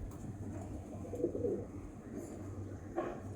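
Teddy pigeons of the Dubai type coo softly in a breeding loft, a few faint low coos over a quiet background with no talking.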